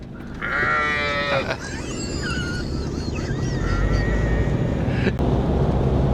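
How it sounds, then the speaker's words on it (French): Sheep bleat repeatedly, loud and close, several overlapping calls over a steady outdoor rumble in northeastern Norway, with a sharp knock near the end. "Ici, c'est vraiment le paradis des moutons."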